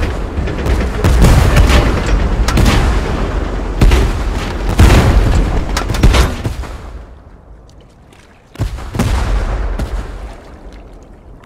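Tank cannon fire in the video game Tank Force: a series of loud booming blasts over a continuous rumbling battle background, with a final heavy shot after a brief lull.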